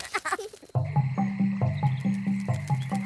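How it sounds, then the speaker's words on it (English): Cartoon frog croaking in a steady, repeated rhythm of about nine close, loud croaks, following a brief moment of talk at the start. "I've turned Ben into a frog and he's hopped off somewhere."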